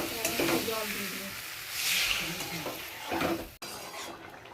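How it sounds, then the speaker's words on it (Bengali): Braised curry in a hot pan sizzles and hisses close up as water goes in, with stirring and a spoon scraping the metal in bursts before the sizzle cuts off sharply. "এবার কষানো হয়ে গেছে, একটু জল দিয়ে দেবো।"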